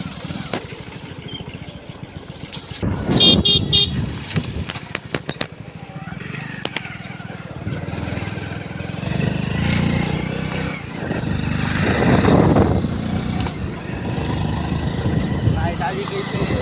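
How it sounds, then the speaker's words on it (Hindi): A tractor engine approaching on a farm, a rough chugging rumble that swells and grows louder through the clip, with a sharp clattering burst early on and people talking nearby. "आगे ट्रैक्टर आ गया।"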